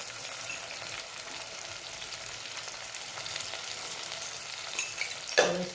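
Spices (turmeric, coriander-cumin powder and red chili powder) stirred into oil frying in a pan, giving a steady soft sizzle with faint scraping, a few sharper clinks near the end.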